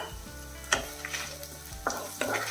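Roasted gram and spicy dried red chillies sautéing in a pan over a medium flame for chutney, a soft sizzle with a few distinct spatula scrapes and taps close by.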